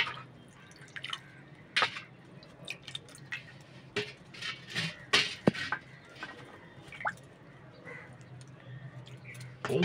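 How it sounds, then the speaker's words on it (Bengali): Water poured from a conch shell to bathe a Gopal deity idol, soft scattered drips and trickling splashes, fairly close and intermittent over a quiet room. "এইটা জল শঙ্খ দিয়ে গোপু সোনাকে স্নান করে"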